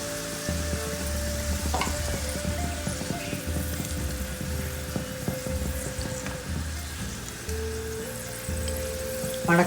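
Cabbage pakoda fry in hot oil with a dense, continuous sizzle and crackle, close and steady throughout, with a low background hum and no talking.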